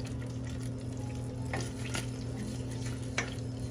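Melted margarine sizzles softly in a pan as a wooden spoon stirs it, with a steady frying hiss and a few light scraping touches.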